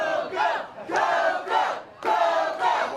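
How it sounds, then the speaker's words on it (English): A crowd at a Halloween wrestling event chants and cheers in loud rhythmic bursts, roughly one surge every half second to second, a packed room of voices close and forceful. "And the crowd solidly behind Coco."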